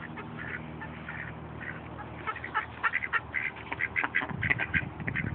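Ducks at a pond in Culver City quack in the open air, soft at first and then building into a busy run of close, overlapping calls.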